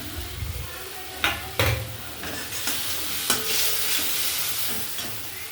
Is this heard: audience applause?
no